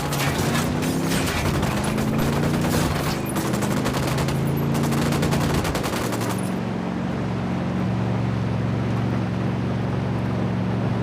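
Sustained automatic gunfire in the video game Ghost Recon Wildlands, a dense rattling stream of rapid shots over a steady low engine drone, loud and continuous before the firing stops and the engine hum carries on alone.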